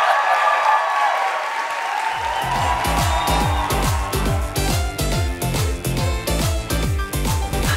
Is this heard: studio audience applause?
yes